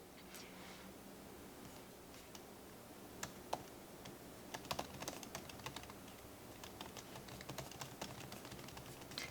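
Quiet, close computer keyboard typing, with a steady patter of light key clicks and a few sharper taps over faint room hiss.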